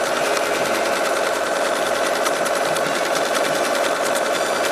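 A sewing machine stitches fabric for a toiletry bag, its rapid needle clatter running steady and close throughout with no speech.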